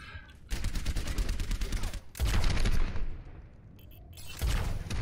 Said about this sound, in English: Man, I can shoot rockets all day long.